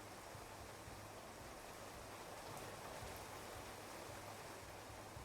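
Steady rain pours down in the Clanfolk video game, a dense, even hiss that runs the whole time with no voices over it.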